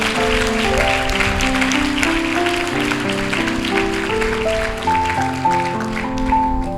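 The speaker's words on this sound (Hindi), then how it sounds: "ताली बजाएं, एक और बार प्रभु को आदर दें," Church youth-camp congregation clapping in praise, a steady, dense patter of many hands running beneath loud sustained keyboard or organ chords throughout.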